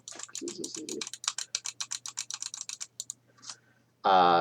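Keys click in rapid, crisp taps on a tablet PC keyboard close by, a steady run of keystrokes that ends in a short tonal beep.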